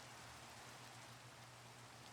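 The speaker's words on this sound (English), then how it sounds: "Why is it raining in Minecraft right now?" Steady rain falls in the video game Minecraft as a faint, even hiss with no distinct drops, accompanied by a low background hum.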